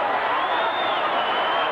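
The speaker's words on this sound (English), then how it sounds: "They are chanting, go for it" A packed stadium crowd at a 1980 Denver at Oakland football game roars and chants in a loud, sustained, distant wash of voices, with no break across the short moment.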